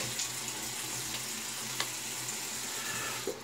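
Tap water runs steadily into a sink as a face is rinsed after shaving, a close, even hiss with a few faint splashes and no speech.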